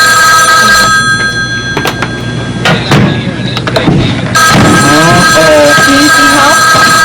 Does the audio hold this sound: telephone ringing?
yes